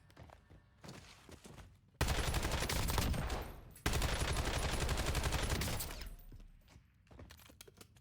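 Rapid bursts of video-game gunfire, first a rifle then a sniper, played through a Hallpi V6 TMR controller setup: dense, loud sustained volleys from about 2 to 6 seconds with a brief break, quieter clicks and shots around them.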